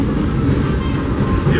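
The Disneyland Railroad train rolls along its rails approaching New Orleans Square Station, a loud, continuous rumbling clatter of wheels on track without pause.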